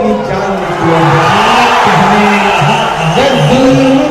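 An audience at a poetry recital applauds and cheers loudly, a close, dense roar of clapping and shouts with voices rising and falling through it.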